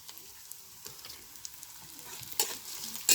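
Onion frying in a pan until reddish while cooking a spicy fish curry, a soft close sizzle with light stirring taps and a couple of louder clinks, no talk.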